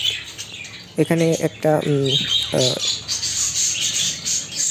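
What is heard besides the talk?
budgerigars calling in a breeding setup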